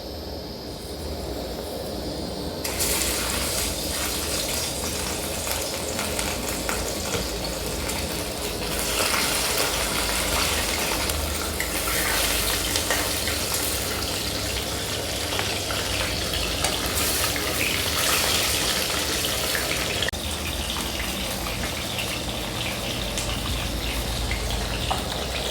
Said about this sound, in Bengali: এরপর আমি মাছগুলো ভেজে নেব।